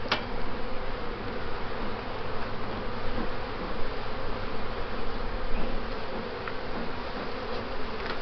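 Honey bees buzz steadily around an opened hive being smoked while frames with burr comb are pulled from new foundation, a dense continuous drone with no voices.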